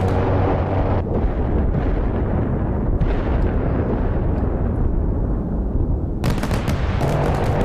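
The deck gun of a Type 071 amphibious transport dock in DCS World fires rapidly and continuously, a dense, loud, booming barrage with sharp crackling bursts near the end and no voices.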